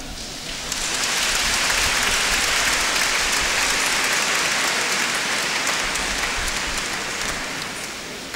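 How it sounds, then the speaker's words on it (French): Broad, dense applause from a large crowd at a church fundraising gathering, rising quickly and holding at a steady roar throughout before easing slightly at the close. "Avec votre applaudissement, avec vos applaudissements"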